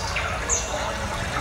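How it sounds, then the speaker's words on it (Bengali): Water falls steadily at a Ganesh Chaturthi festival display, a continuous close splashing wash with no break across the moment. "দেখো জল পড়ছে"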